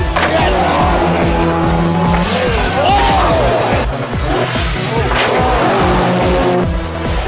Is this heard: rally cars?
yes